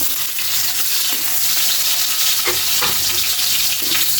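Onions for beef adobo sauté in a pan with a steady, bright sizzle and a few scraping stirs, close and continuous throughout.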